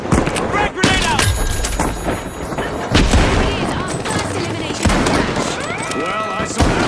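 A frag grenade explodes in the shooter game THE FINALS amid a dense, busy firefight, with sharp blasts and gunfire layered over game effects and voices talking.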